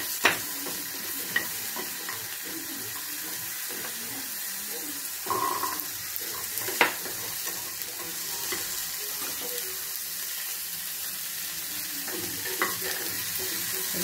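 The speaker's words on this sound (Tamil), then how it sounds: "5 நிமிஷம் நல்லா வதக்கி" Tomato chutney ingredients sautéing in a little coconut oil, with a steady soft sizzle and occasional stirring scrapes and clinks up close, no talking.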